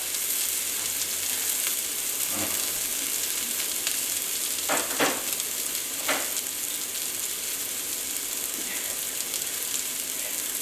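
A constant soft sizzle and hiss from bell peppers and other vegetables cooking in a pan with a splash of water over lowered heat, broken by a few brief scraping clicks, with no talking.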